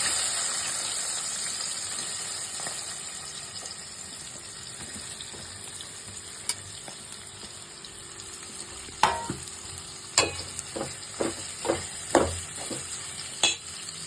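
Green chilies and onions fry in a pan with a steady, soft sizzle. Sharp scraping and stirring knocks come in a quick irregular series near the end, and no one speaks.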